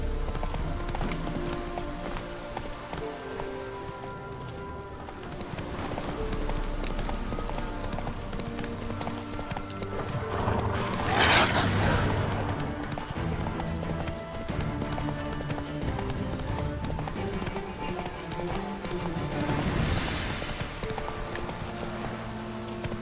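Hooves of Roach, the horse in The Witcher 3, clip-clop steadily at a gallop throughout, close and continuous, with game music and ambience underneath and a brief snort partway.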